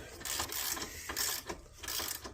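A ratchet tightens the outer tie rod end on a 2015–2023 Jeep Renegade, giving several bursts of rapid, close clicking with brief pauses between strokes.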